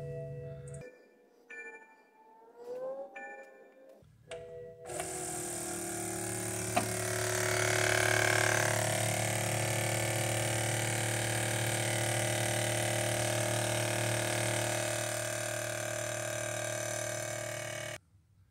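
The air suspension compressor on a 2009 BMW F01 750 kicks on after a few short electronic tones, then runs as a steady loud electric hum and whine close by until it cuts off at the end.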